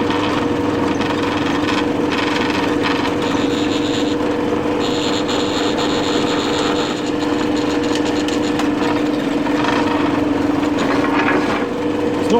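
A blunt drill bit boring steadily, with a continuous, loud, even motor whine and grinding hum, close by with no pauses and no voices.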